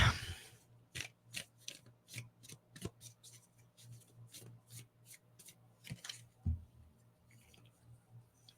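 Cards are shuffled by hand, a series of crisp, evenly spaced riffling snaps and slides, close and quiet, with no talking.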